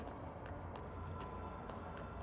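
A telephone rings in the video game Control, a faint trilling bell repeating a few times from some distance beneath a constant ambient hum, with no talking.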